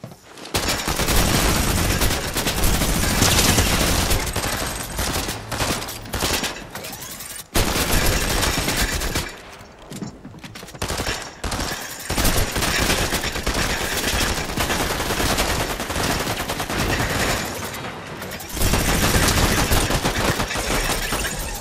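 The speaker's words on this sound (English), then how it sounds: "I hit you up with a Gatling gun." Gatling gun in the Fortnite video game firing long, loud, dense bursts of rapid automatic shots, with brief gaps between volleys and other gunfire mixed in.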